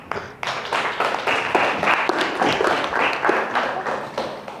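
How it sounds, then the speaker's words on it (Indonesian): Classroom of eighth-grade students clapping for a classmate after a Newton's laws physics practical, a burst of brisk overlapping applause lasting several seconds with uneven rhythm, fairly close. "Tepuk tangan dong."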